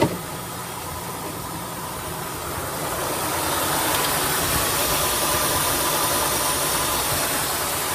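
An AMC Jeep engine idling warm with oil pressure near zero, a steady loud rumbling drone with a faint rattling texture throughout, close by and with no talking.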